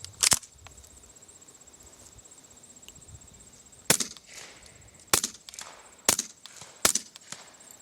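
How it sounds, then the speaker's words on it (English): A suppressed 9mm fires at steel targets: about five sharp cracks spaced irregularly over several seconds, with quiet background between shots. "So we're just going to go ahead and fire a couple rounds, show you how the thing works."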